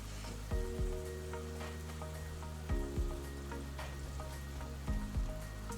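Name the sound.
perfume mixture boiling in a pot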